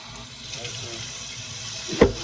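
Sea moss is rinsed under running tap water at a sink, giving a faint, steady wash of flowing water with a brief louder splash near the end.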